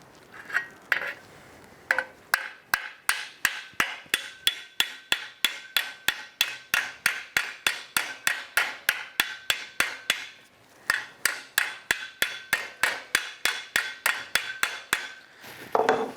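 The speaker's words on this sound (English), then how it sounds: "going back to our hammer and dolly, what we're going to do is effectively squash, bring that low area out with our hammer and dolly" A hammer and dolly beat out a low spot on a sheet-metal pedal-car mudguard, with sharp, bright metallic strikes repeating in a steady rhythm about three per second. There is one short pause midway.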